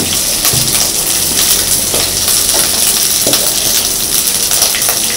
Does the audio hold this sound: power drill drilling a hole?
no